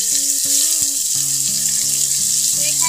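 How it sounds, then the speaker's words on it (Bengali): Chopped onions fry in about a third of a cup of hot oil in a cooker for a Bangladeshi prawn malaikari, giving a steady, bright sizzling hiss with soft tonal music underneath. "তো এখন আমি পেঁয়াজ কুচিটা একটু ভেজে নেব।"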